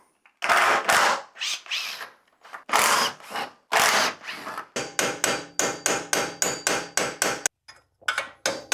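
A power tool undoes the top hat bolts on a Subaru WRX during a coilover suspension install, firing loud, close bursts that settle into a fast, rhythmic string of hammering impacts.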